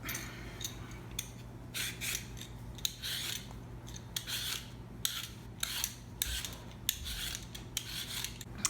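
A peeler scrapes the skin off a large sweet potato in quick, repeated rasping strokes, close and crisp, in an uneven rhythm of short bursts over a quiet background.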